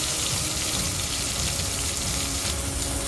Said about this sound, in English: Makes nice sizzling sound. That's the sound of happy meat.